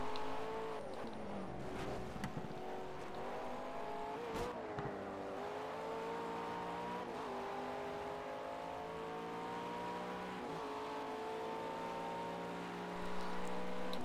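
GT3 race cars in the Project CARS video game on Xbox One, with engine drones and rising, falling revs sounding steadily for the whole stretch, plus brief tire squeal and passing cars.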